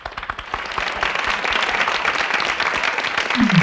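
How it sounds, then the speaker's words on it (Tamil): Loud, full-hall applause for a student speaker at a Tamil speech competition, starting with a few distinct claps that swell into dense, sustained clapping near the listener. "சுபலட்சுமிக்காக ஒரு அரங்கம் நிறைந்த கைத்தட்டு"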